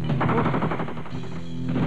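Burst of gunfire in a Filipino action film, loud dense rapid shots filling the short moment alone, with no voices over it.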